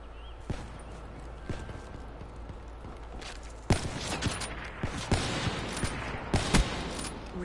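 Pistol fire in an online video game, sharp single shots popping at irregular intervals, sparse at first and then more frequent and louder in the second half, over a steady background hum.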